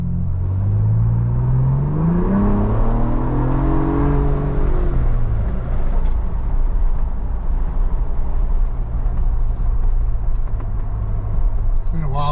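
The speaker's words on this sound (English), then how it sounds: "3-liter V6 twin turbocharged 420 ponies" Ford Bronco Raptor with a 3-liter twin-turbo V6 making 420 horsepower, its engine rumbling and winding up with rising then falling pitch, loud and steady throughout under light talk.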